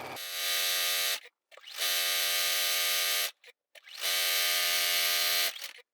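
A sewing machine motor whirs in three close, loud bursts as it stitches fabric ties for a drawstring wine bag, each run a steady high hum lasting one to two seconds, with short pauses between.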